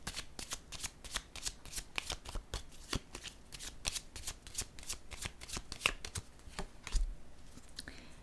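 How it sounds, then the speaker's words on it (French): Playing cards shuffled and laid down in a steady run of crisp riffling flicks and slaps, close and fairly quiet, with no voices. "Je vais déposer une carte maintenant sur l'apaisement."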